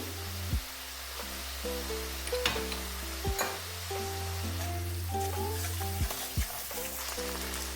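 Ginger paste frying in hot oil for a tamarind catla fish curry, a steady soft sizzle with occasional stirring scrapes and clicks, moderately close.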